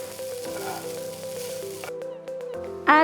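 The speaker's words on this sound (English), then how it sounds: "break it into pieces and add it to the tempering" Broken idiyappam pieces dropped into hot tempering give a brief crackling sizzle, with a louder spatter burst at the end, under a faint hum.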